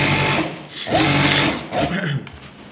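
A sewing machine runs in steady bursts while stitching along the top of a trouser waistband over the belt side, its whirring rising and pausing, with a voice faintly audible underneath.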